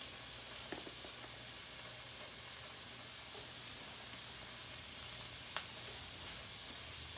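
Shrimp seasoned with Old Bay hitting a hot pan for an étouffée, giving a steady, faint, broadband sizzle with a few soft pops and clicks, no talking.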